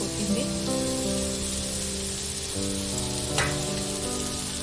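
Spices such as cumin powder sizzle and fry in hot oil in a pan for paneer pulao, a steady loud hiss close up, with a brief stirring scrape and a faint tonal hum in the background.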